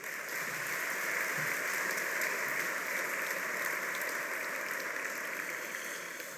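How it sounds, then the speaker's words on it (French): Guests at a formal Assyro-Chaldean Christians dinner applaud warmly, a continuous, even wash of clapping from a large crowd in a big room that holds steady for several seconds at moderate distance. "vous pouvez les applaudir très chaleureusement"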